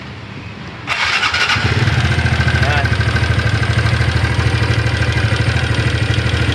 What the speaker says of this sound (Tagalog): maingay ang kanyang makina